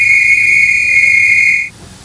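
A steady, piercing high-pitched train whistle sounds loudly for nearly two seconds, then cuts off sharply and leaves low background rumble.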